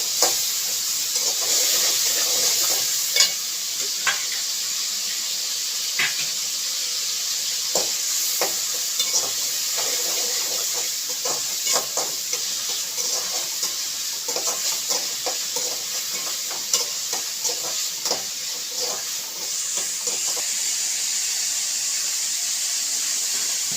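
Tomatoes sauté with a little rock salt in a hot pan, giving a continuous close sizzle and hiss. Scattered clicks and scrapes of stirring break through it, with no talking.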